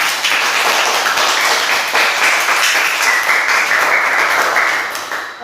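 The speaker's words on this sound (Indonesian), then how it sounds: "Tepuk tangan dulu untuk semua." Classroom applause for students' group discussion work, a dense steady wash of many hands clapping together, fairly close and loud, continuing evenly before tapering slightly at the end.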